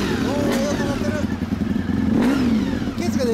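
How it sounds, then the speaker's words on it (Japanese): A 1992 Honda VFR400R motorcycle with an Ethos aftermarket exhaust revs up and down in loud bursts, with a rising and falling whine and a voice talking faintly underneath. "ちょっとエンジン音聞かせてもらってもいい。"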